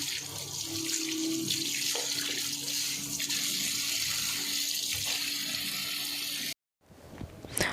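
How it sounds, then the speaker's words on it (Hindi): Vegetables are washed under a running kitchen tap, a steady broadband rush of water that goes on for about six and a half seconds, stops abruptly, then a short splashy burst follows near the end. Close and fairly loud, with no talking. "और बस यहाँ इनको धो लूँगी मैं और फिर रख दूँगी।"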